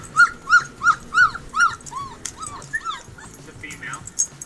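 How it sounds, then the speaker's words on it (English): Husky puppies crying in a run of high, rising whimpers and yips, about five evenly spaced cries, then scattered softer squeals, fairly close over a busy background. "Let's try husky puppies crying."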